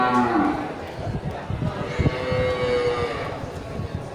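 Male Angus-type cattle of a Simmental and Brahman cross low at a busy livestock market, with a long, close moo standing out over crowd chatter and a steady background murmur.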